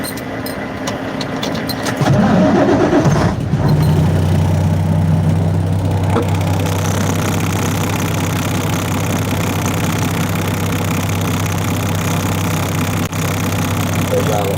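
A truck engine with an air-brake setup cranks and catches about two seconds in, then settles into a loud, steady, low idle that drones on to the end.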